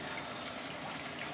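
Water trickling steadily from a 6 kW continuous alcohol reflux still, a soft, even, close splash-and-hiss of running liquid with no break.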